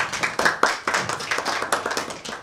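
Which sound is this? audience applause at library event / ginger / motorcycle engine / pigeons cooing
audience applause at library event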